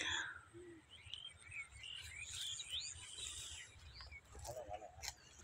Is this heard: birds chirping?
yes